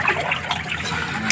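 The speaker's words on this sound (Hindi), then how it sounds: "पानी आ रहा" Water splashes and trickles steadily into an outdoor pool, a continuous close wash of flow lasting just over a second with no voices.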